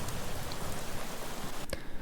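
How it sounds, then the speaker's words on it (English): A rain sound effect layered into a house music track gives steady, dense hiss of falling drops at moderate level, with a brief sharper tap near the end and no voices. "I found this cool rain effect."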